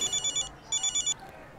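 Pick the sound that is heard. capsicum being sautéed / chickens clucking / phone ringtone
phone ringtone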